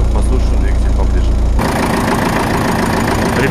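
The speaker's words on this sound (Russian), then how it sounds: "Сейчас выйдем к двигателю, послушаем двигатель поближе." A 2003 MTZ 82.1 tractor engine idles with a steady low throb, then turns louder and broader partway through as it is heard up close, running evenly.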